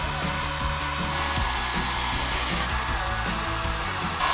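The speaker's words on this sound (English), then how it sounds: "We could just use a hairdryer to help make them stick really good." A hairdryer runs steadily and close, heating the adhesive on weather shields being fitted to a Toyota LandCruiser 80 series, with a constant airy whir and no talk over it.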